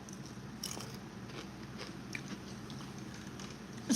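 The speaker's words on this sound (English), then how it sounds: "Can you stop chewing with your mouth closed?" Close, fairly quiet chewing with soft bites and crunching mouth sounds continuing steadily through the moment, with no talking.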